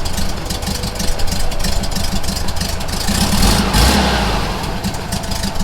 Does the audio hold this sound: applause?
no